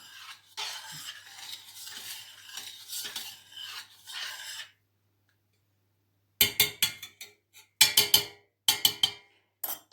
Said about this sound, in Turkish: Şimdi boşaltıyorum bunu. Şöyle biraz karıştırıyorum.